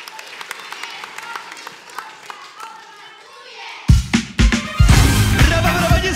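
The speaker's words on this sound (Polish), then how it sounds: "Brawa, brawa, nie stygną!" Audience at a town talent show in Mysłowice bursts into loud, dense applause after a poem recital, the clapping rising abruptly after a quieter stretch of scattered taps and murmurs and continuing steadily to the end.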